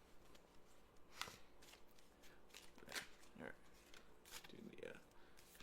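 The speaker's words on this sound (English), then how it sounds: "I'm gonna try and do my shuffling more on camera" A deck of playing cards being shuffled during a tarot reading, with several short riffling bursts spread across the clip over a soft background hiss.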